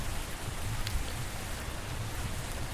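Steady rain drums on a Hino AK240 bus in Bus Simulator Indonesia, a dense, even hiss of drops on the roof and windows with nothing else heard.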